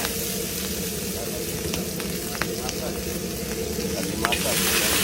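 Garlic and onion sizzle in a hot pan with a dense, even frying hiss and light clicks of stirring, close and steady throughout, with no talk.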